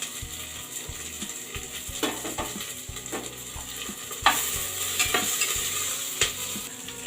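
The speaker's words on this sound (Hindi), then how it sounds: "आपको केवल मीडियम फ्लेम पर हल्का सा 1 से 2 मिनट के लिए रोस्ट कर लीजिए।" Paneer shallow frying in a pan on a medium flame, a soft continuous sizzle under regular scraping and rattling stir strokes from a spatula, close and fairly quiet with no voices.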